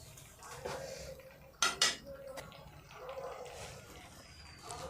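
A lid is set down onto a pot of simmering Bengali kosha chicken curry, giving two sharp metallic clanks close by over a soft kitchen background hiss.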